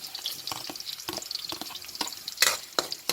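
Garlic added after ginger frying in a pan for chicken tinola, with a steady sizzle and repeated stirring scrapes coming in short bursts, close and fairly loud, no talking.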